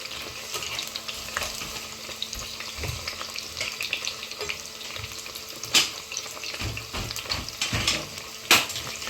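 Curry leaves fry in hot oil with chicken 65 in a pan, giving a steady low sizzle and crackle broken by occasional louder scrapes and clatters of stirring, with no talk.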